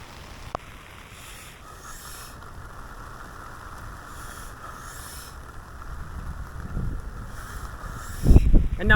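Wind gusts through falling rain beneath an umbrella, a soft rushing hiss that grows rougher and louder, ending in heavy buffeting bursts against the microphone.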